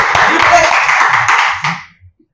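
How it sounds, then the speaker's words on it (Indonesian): A group of people bursts into applause at a police mission center in Jakarta, dense clapping mixed with cheers and voices for about two seconds before it quickly dies away. "Tepuk tangan dulu dong semuanya."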